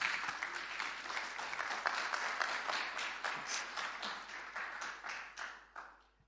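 A workshop audience gives a full round of applause, dense and steady clapping from a roomful of people that tapers off and fades out near the end.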